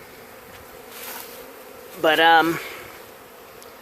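Bees buzzing around a hive being removed from a shed, a soft steady hum with one closer, louder buzzing pass in the middle and a brief spoken word.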